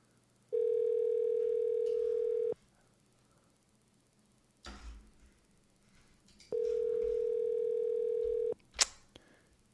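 A Google Voice call rings back with two long, steady ringing tones separated by a pause, and a few faint handling noises fall between and after them.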